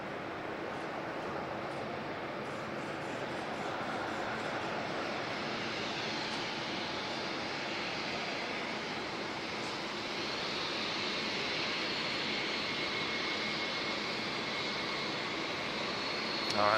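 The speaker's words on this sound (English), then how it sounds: "that's NZ406 taxiing to the gate" Airliner NZ406 taxis to the gate at Auckland Airport in fog, a continuous broad jet engine roar that holds steady throughout at moderate level, with no voices.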